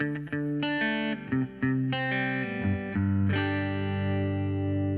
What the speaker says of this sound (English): we'd throw in the little picking riff